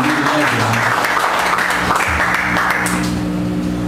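Scattered clapping for Tony Blunt on a talk show, short and fairly close, mixed with background music and some voices.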